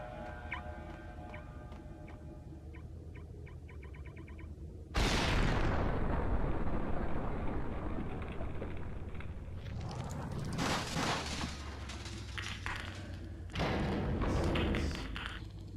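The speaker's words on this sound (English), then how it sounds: "That's right, early grenade" Grenade explosions in a shooter video game: a sudden loud blast erupts and rumbles away, followed later by further heavy bursts and crackling debris.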